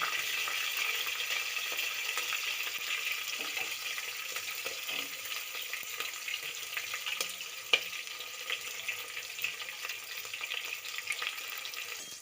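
Green chillies and onions with cumin fry steadily in a hot pan for a Kannada-style aloo saagu, a continuous close sizzle with faint stirring scrapes and one sharp tap near the end, no voices.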